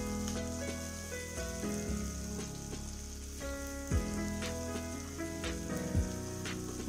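Chopped onions sautéing in hot oil for tomato kurma give a steady close sizzle and frying crackle, broken by occasional louder stirring scrapes, with no talking.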